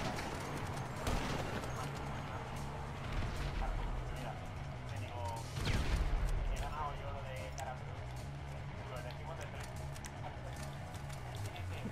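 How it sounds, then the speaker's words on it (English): In Grand Theft Auto V Online, a sharp explosion bursts out midway through a busy stretch of gameplay noise, with a smaller blast earlier and a voice talking over the action. "That was a good explosion right there."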